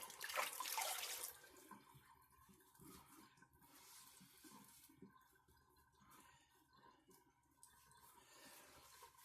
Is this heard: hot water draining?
yes